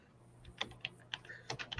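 Keys clatter in short irregular bursts of typing on a computer keyboard, close and fairly quiet, with no talking over it.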